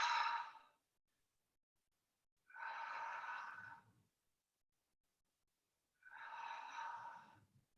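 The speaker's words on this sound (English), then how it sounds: "Exhale out." A person breathes out three times during a fitness exercise, each exhale a soft, airy breath lasting about a second, separated by near silence and heard close up.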